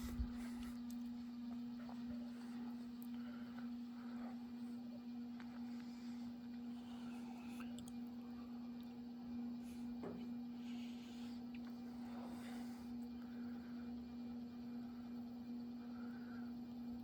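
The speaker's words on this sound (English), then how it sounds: "The fan has slight bearing noise, but it's nothing too over the top." An S.M.C. Laguna 52-inch ceiling fan runs steadily with a constant low motor hum and faint bearing noise, a slight wobble adding soft irregular ticks over an even whir throughout.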